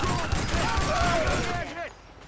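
Gunshots in GTA Online, with a run of regularly spaced low pops under a loud, busy game mix and someone talking over them.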